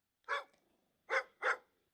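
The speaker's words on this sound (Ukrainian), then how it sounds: "Гав-гав, собака прийшла, класно." A dog barks in the pizza-making video game Good Pizza, Great Pizza: three short, clear woofs, one and then a quick pair, alone against silence.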